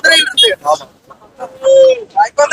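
Roosters and country chickens for sale at the Kunnathur market near Tirupur, clucking and a drawn-out crowing call rising between nearby human voices, close and fairly loud.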